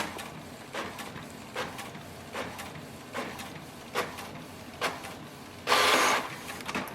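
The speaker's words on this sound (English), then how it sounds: "It's gonna print the nozzle check sheet." A Canon Pixma G5020 inkjet printer printing a nozzle check sheet, with rhythmic mechanical passes of the print head roughly every second, then a longer whirring feed near the end.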